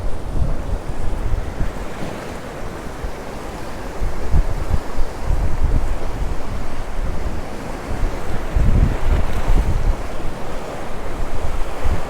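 Waves crash and wash onto the shore at Santa Ponsa, Mallorca, in strong wind. The surf roars continuously, and gusts buffet the microphone throughout with no voices.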